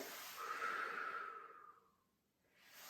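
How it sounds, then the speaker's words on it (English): A long, steady outward breath during a beginners' core exercise, a soft airy hiss lasting about a second and a half up close, then fading to near silence before the next breath begins. "Breathing out."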